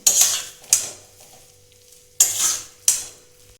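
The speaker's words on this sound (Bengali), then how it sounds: "ভালো করে তরকারিটা আমি ধনে পাতাটা মিশিয়ে নিচ্ছি" A spoon scrapes and clanks through potato curry with coriander leaves in a pan, four sharp close strokes with short quiet gaps between them and no voices.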